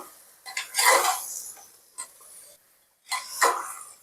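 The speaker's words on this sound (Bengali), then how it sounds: "এইভাবে অনবরত একটু নাড়াতে থাকবো।" Mutton pieces are stirred with onions and yogurt in a cooking pot for a Punjabi curry, giving a few short bursts of scraping and metallic clinks separated by quiet pauses, close and fairly soft, with no talking.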